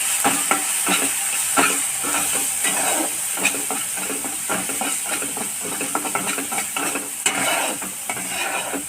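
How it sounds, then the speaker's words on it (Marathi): Tomato, salt and masala sautéing in a pan on low heat for a clam and potato dish, a close steady sizzle broken by repeated spoon stirring and scraping, no voices. "एखाद मिनिटभर परतून घेऊया"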